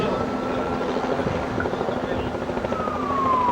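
A Bell 206 helicopter's engine and rotor drone steadily and loudly at an airport, a constant roar with a low hum beneath it.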